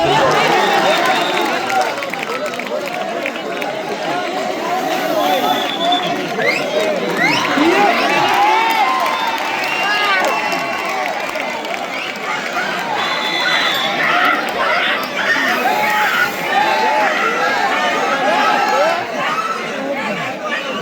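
Spectators at a kabaddi match cheering and chattering in a dense, continuous crowd roar that swells and falls, with shouts and whistles rising above the din throughout.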